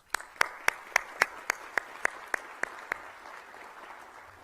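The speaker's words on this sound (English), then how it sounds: "Let's give them a round of applause" About a dozen evenly spaced, fairly faint claps ring out at a police and fire chiefs swearing-in ceremony, slowing slightly before trailing off into quiet room tone.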